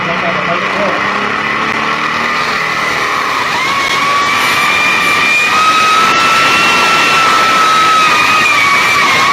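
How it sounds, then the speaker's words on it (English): Diesel pulling truck at a truck and tractor pull, engine held at a high 6,000 RPM, a loud sustained roar with a rising whine, steady throughout and without talk. "I want to show you guys that diesel truck."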